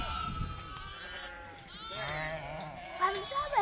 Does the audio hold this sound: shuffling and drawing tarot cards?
no